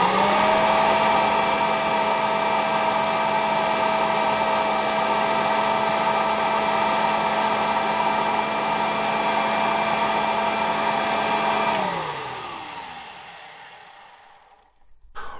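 A Kirby G5 vacuum cleaner fitted with a standard 1997–1999 mini emptier runs at a loud, steady motor whine for about twelve seconds, then is switched off and winds down in a falling tone to near silence.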